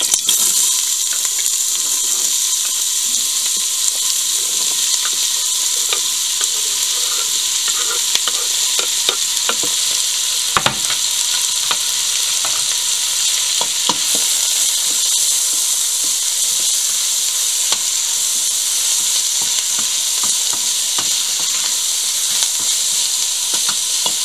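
Chopped onion, carrots and celery fry in very hot canola oil for a vegetable minestrone, giving a loud, steady close sizzle with crackles and occasional stirring scrapes throughout.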